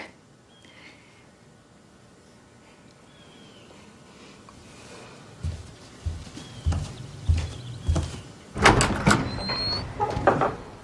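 A door is opened to let in a visitor, with faint clicks and a run of soft thumps and handling knocks that grow louder toward the end, over a quiet room tone. No voices are heard.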